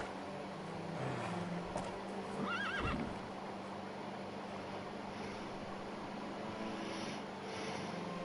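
Horse in the Lego The Hobbit video game gives a brief whinny near the middle, set over a steady ambient game background with faint low rumble.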